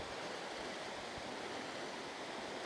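A small creek in the Turtletown Creek Falls area rushes and burbles steadily, a close, continuous broadband wash of flowing water with no voices.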